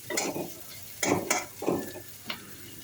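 A spoon stirs smashed boiled potatoes with turmeric and salt into a curry in a pan, making several close, soft scraping and squelching strokes with a light sizzle between them, and no one speaks.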